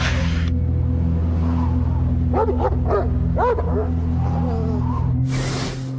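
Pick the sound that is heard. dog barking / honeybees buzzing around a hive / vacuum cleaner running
dog barking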